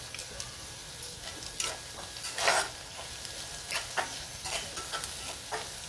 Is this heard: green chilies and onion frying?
yes